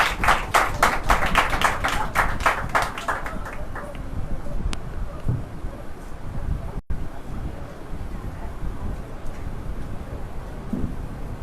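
A church congregation at a Sunday service claps for the pastor, a burst of loud, rhythmic clapping in the first few seconds that fades into a murmuring room with scattered noise and wind-like rumble.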